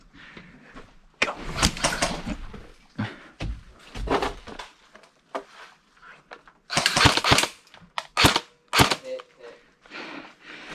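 Airsoft guns fire in sharp cracking shots during an airsoft game, single pops and quick bursts scattered through the stretch, some close and loud, others fainter, with players talking now and then in between.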